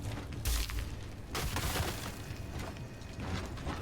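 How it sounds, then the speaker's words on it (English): Explosions in the video game Eternal Strands, two heavy booming bursts a second apart with crackling debris and a rumbling wash of destruction that carries on between them. "Explosions!"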